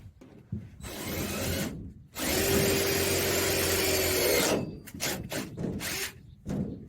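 A small handheld drill drives screws into wood in two bursts, a shorter whir and then a longer, louder steady grinding spin, followed by brief scraping and handling noises nearby.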